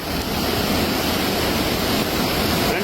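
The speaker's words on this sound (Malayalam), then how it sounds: "മഴയും വെള്ളത്തിന്റെ ശബ്ദമൊക്കെ ആയതുകൊണ്ട് നമ്മളെ വോയിസ് ഒന്നും അധികം ക്ലിയർ ആയിട്ടുണ്ടാവില്ല" A surging flash flood from heavy rain on a hillside stream roars as a loud, continuous broadband rush of water. It drowns out everything else, and no voices can be heard.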